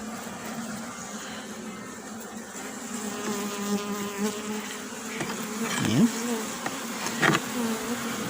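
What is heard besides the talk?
honeybees buzzing around open hive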